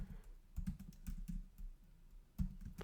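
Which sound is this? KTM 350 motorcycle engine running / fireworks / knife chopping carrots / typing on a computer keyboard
typing on a computer keyboard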